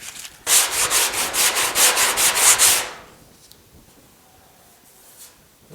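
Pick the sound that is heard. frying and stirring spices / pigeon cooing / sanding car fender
sanding car fender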